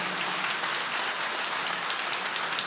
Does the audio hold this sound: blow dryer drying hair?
no